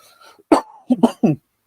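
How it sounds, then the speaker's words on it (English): A few rough coughs and throat-clearing bursts from a man, close and fairly loud, clustered in short bursts after a quiet breathy lead-in. "I'm still working on getting over this cough"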